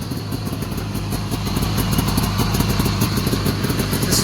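A small two-stroke car engine running steadily nearby, a loud, buzzy, rapid clattering drone like a snowmobile that holds a fast, even rhythm and grows slightly louder.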